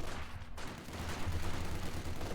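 Distant, faint rattle of an MG42 machine gun firing in a Company of Heroes 2 battle, a steady low burst rumbling beneath other quiet battlefield sounds, with no talking.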